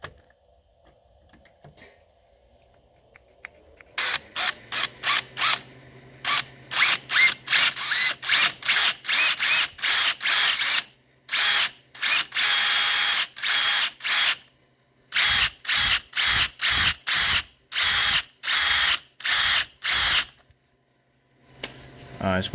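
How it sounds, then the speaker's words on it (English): A power drill bores out an aluminum rivet on the rear side skirt of an Audi B5 S4, loud repeated bursts of whirring drilling with brief pauses between them, after a quiet stretch at the start. "I'll just take the drill, line it up on the rivet."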